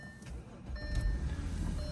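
An Audi car engine catches after a key start and settles into a steady low idle rumble. Faint high tonal warning chimes sound over the engine.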